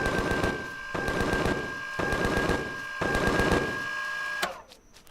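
Rapid automatic gunfire in Empyrion Galactic Survival comes in four dense bursts of about a second each, loud and close, with a steady tone running underneath and a sharp final crack before it drops away.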